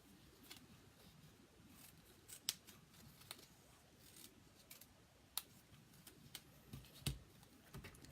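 Scissors cutting along lines of a paper template for a stamped wreath, heard close but faint as a steady run of small snips and crisp paper rustles with occasional sharper clicks, no talk.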